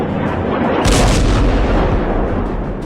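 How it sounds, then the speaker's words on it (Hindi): Missiles falling and exploding over Tel Aviv, heard as a dense, continuous roar of booming blasts with a louder burst about a second in and sustained rumbling rolling on afterward. "तेल अवीव पर खुर्रम शहर मिसाइलें गिर रही हैं।"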